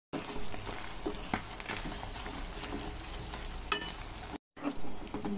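Fried mutton with green chillies and curry leaves being stirred in a pan, a steady close sizzle with scraping spoon strokes, a brief gap near the end, no voices.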